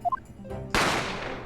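A single sharp gunshot from The Great Ace Attorney Chronicles cracks out loud and close after a few short chiming game tones, its bright report decaying over about a second.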